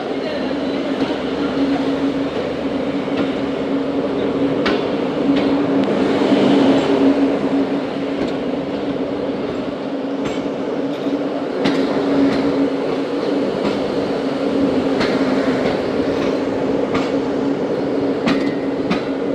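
The Tezgam passenger train in Pakistan runs along the rails with a steady, loud rumble and faint clickety-clack from the wheels, heard from inside the carriage throughout.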